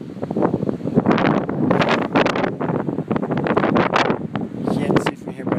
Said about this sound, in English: It's pretty windy up here at the top.